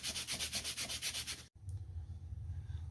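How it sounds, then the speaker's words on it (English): Close back-and-forth strokes of 150 grit sandpaper on a small model catapult part, a quick rhythmic scratchy rasp for about a second and a half, then stopping, leaving quiet low rumble. "So just using some 150 grit to make them slightly smaller."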